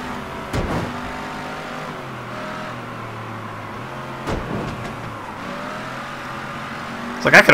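A car in the video game Mafia 3 cruises with a steady engine drone that shifts pitch as it accelerates, a few sharp thumps breaking in, moderately loud.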